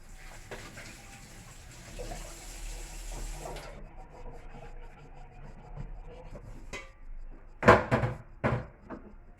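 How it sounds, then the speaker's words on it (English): Running tap water splashes over hands being washed in a home kitchen before cooking, a steady broadband wash followed by louder bursts of splashing and a few knocks near the end, with no talking. "Let me wash my hand."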